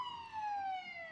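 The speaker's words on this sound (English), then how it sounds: "We will let the sirens go off for a moment." Police sirens wail at the 2022 Westford Apple Blossom Parade, a brief, fairly faint electronic tone gliding slowly downward in pitch, heard alone.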